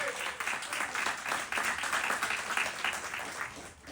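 Church congregation applauding, a dense, steady wash of clapping from a crowd lasting a few seconds, with some voices mixed in.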